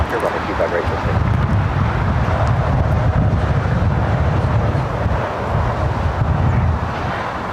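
A jet airliner takes off from runway 25 right at LAX on a cool afternoon, a continuous low roar that holds steady throughout with wind buffeting the microphone and a voice talking over it.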